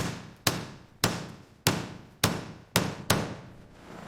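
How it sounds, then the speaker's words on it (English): A crushed steel truck fender, damaged by quarry rockfall on a vintage Mack truck, struck by a hammer: six sharp, loud metallic blows roughly every half second, each ringing briefly before the next. "The crushed fender, a rockfall souvenir from the quarry, is hammered back into shape blow by blow."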